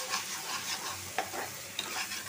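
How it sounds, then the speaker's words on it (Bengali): Onion mash stirred and fried in a pan for a greens, tomato and small-fish chorchori dish, giving a soft steady sizzle with a few sharp spoon scrapes against the pan, close and fairly quiet, no voices. "এখন আর 5 মিনিট একটু ভাজা ভাজা করবো"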